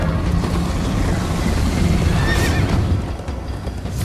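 Horse galloping and neighing in the Minecraft Story Mode video game, a whinny rising over steady hoof clatter and rumbling wind-like noise, loud and close throughout.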